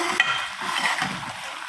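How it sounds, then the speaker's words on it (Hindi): Chicken karahi with tomato and yogurt fries in a pan while being stirred, giving a soft continuous sizzle with scraping and stirring textures close up. "अब हम इसी में इसको भून लेंगे सारी को"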